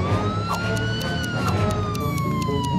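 A wailing ambulance siren rises and falls steadily over a rumbling background, loud and continuous, with no voices.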